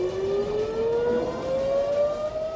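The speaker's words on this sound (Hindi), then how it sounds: "ईरान के मिसाइल हमले के दौरान इजराइल में लगभग 35 मिनट तक सायरन बजते रहे" Air raid sirens in Israel wail during an Iranian missile attack, a single steady tone slowly rising in pitch, heard at moderate distance over faint background noise.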